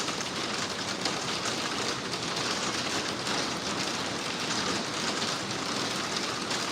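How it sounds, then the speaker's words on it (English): Hail pelting steadily outside a window near an eagle nest, a dense, even hiss of impacts with no pauses, loud and constant throughout. "And you can hear that hail."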